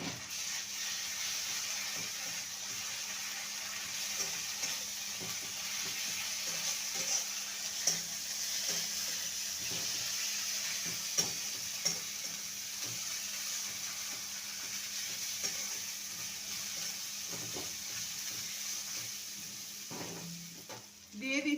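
Ginger paste fries in hot oil for a chickpea curry, a steady crackling sizzle that runs throughout, broken by scattered scraping stirs and light clinks of a spoon against the pan, close and moderately loud.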